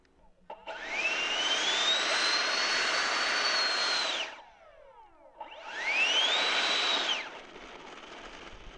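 A radio-controlled F-16 model jet turbine runs in two loud sustained bursts, each spooling up to a rising high whine over a broad roaring rush, with a short quieter gap between them and no talking.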